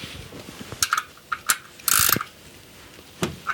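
A ratchet tightens cylinder head bolts in short, irregular bursts of close, crisp clicking, with one longer run of rapid clicks in the middle.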